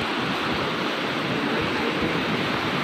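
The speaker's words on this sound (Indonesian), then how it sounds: "air ini sudah mulai naik ini. Udah keras sekali." Rushing flood water of a rising river, swollen after heavy rain on the riverbank in Empang, Sumbawa, a loud continuous roar of churning water with wind buffeting the microphone, steady throughout with no talking.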